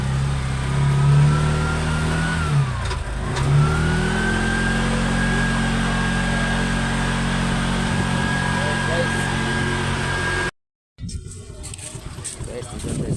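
A passenger vehicle that seems close to breaking down drives along the Maharlika highway, its engine running steadily with a rising and falling whine. Steady road rumble carries on until a brief dropout, then resumes with faint voices.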